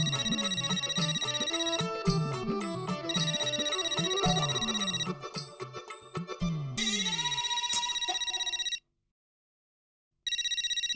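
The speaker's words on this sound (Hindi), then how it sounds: "जेठालाल का फोन, पता नहीं अभी इसने किस लिए फोन किया होगा।" A telephone rings in repeated electronic bursts with a melodic tone pattern, stopping briefly near the end before ringing again.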